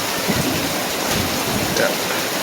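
Heavy rain driven by wind, with hail, roars steadily outdoors in Delhi, a dense close wash of noise without a break.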